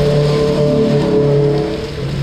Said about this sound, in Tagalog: Inabot kami ng ulan. Ayan, lakas.